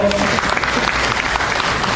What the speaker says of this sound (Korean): 큰 박수 함께 해주십시오